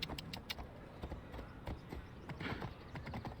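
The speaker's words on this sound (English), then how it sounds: "It is a nice horse." Summoned horse's hooves clip-clop in a steady, fairly loud rhythm in a video game, with occasional mechanical clanks layered over the footfalls and no talking.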